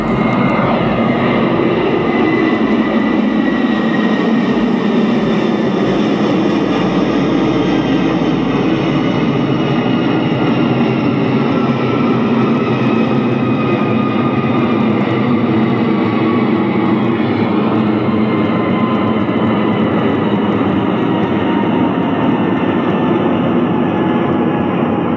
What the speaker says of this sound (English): the airplane just hit its cruising altitude